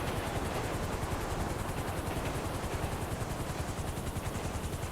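A large helicopter sits on a building rooftop in the GTA V game, its rotor wash a steady, loud, dense whirring roar that fills the whole stretch without a break.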